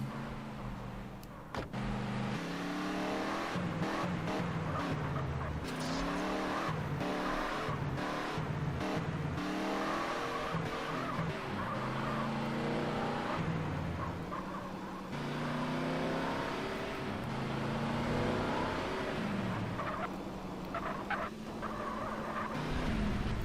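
A pink car driving through hilly, mountainous terrain in the video game GTA San Andreas, its engine droning steadily with game music throughout, loud and continuous with brief tire and revving bursts.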